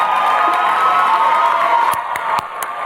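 A university graduation audience claps and cheers loudly in a dense, continuous roar of applause and whoops that thins slightly toward the end.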